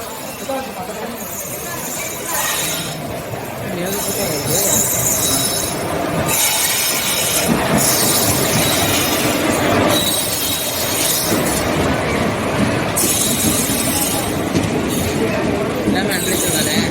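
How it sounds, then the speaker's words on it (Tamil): A train hauled by a WAP1 electric locomotive rumbles into an Indian station with squealing wheels and clanking carriages, loud and close, while people's voices chatter over it. "ரயில் வந்து விட்டது"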